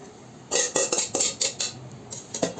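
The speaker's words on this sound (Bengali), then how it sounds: "এবার সিদ্ধ করে রাখা মসুর ডাল আর পুঁই শাক দিয়ে দিচ্ছি" Boiled masoor dal and Malabar spinach being added to a cooking pot, a quick run of close metallic clinks and scrapes of a spoon against the pot, then a pause and one last clatter.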